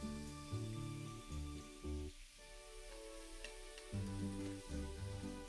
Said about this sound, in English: Should get a nice sizzle here.